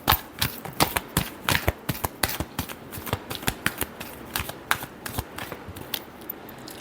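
Tarot cards shuffled by hand in a quick run of crisp riffling slaps and flutters, close up and fairly quiet, with no voices.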